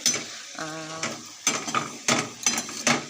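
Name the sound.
spices being sautéed in a pan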